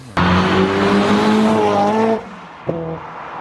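A race car doing laps on a track, likely a supercharged Honda S2000 track build, roars past close and loud for about two seconds. The engine pitch climbs steadily before it cuts off, followed by a short sharp burst.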